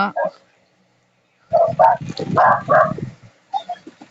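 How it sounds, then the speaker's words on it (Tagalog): A dog barks sharply in short bursts, a quick pair, then a pause, then a longer run of barks close by. "kanino aso yan? Patahimikin nyo nga."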